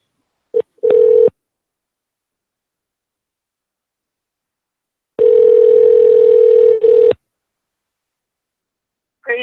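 A telephone call back plays out as two short bursts of steady tone, a long pause, then a loud two-second ring tone, and a brief trace of sound at the very end.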